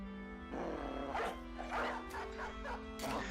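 War dog in the video game Battle Brothers barking in several short, sharp bursts over a steady tonal game background hum.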